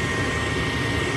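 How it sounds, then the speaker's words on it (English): A furnace draft inducer motor runs with a steady, close, loud whooshing hum and a faint tonal whine, constant throughout, with no voices. "draft inducer motor runs"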